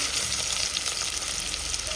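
Steady, crackling sizzle of onions frying in hot oil, continuous and close, with no voices.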